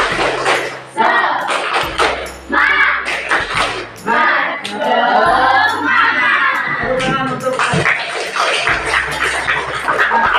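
Schoolchildren at an elementary school in Subang loudly perform the rhythmic 'tepuk semangat' clap chant in unison, with repeated bursts of clapping and shouted syllables that echo through a classroom.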